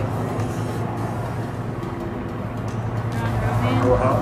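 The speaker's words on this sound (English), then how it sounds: "It's so loud, the helicopter's so loud." A loud helicopter flies overhead near a cruise ship in Skagway, Alaska, making a continuous broadband rumble that holds steady and swells slightly toward the end.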